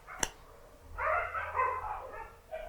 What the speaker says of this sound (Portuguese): acho que alguns cachorros estão brigando aí por causa de uma cadela